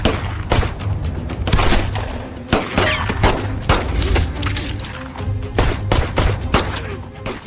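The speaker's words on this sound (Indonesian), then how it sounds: "Ketika sedang baku tembak" Rapid gunfire in a film shootout, with repeated sharp shots and bursts crackling over a constant low rumble and loud impacts for the whole stretch.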